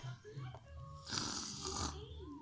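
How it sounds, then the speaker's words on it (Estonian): A person snores with a rough, drawn-out inhalation rasp, fairly close but soft, while voices and low murmuring continue around it. "aga kes nüüd norskab"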